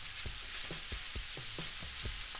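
Sausage fries in an old iron skillet, a steady close sizzle with repeated soft scraping knocks of a utensil stirring or turning the meat.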